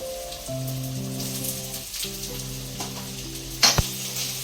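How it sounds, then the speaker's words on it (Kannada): Sliced ginger sizzles and crackles in hot sesame oil for a homemade pickle. The frying hiss is continuous, with occasional stirring scrapes and a sharper clatter toward the end. "ಈ ಶುಂಠಿನ ನಾನು ಹುರಿತಾ ಇರೋದು ಎಳ್ಳೆಣ್ಣೆ ಹಾಕಿ ಹುರಿತಾ ಇದ್ದೀನಿ"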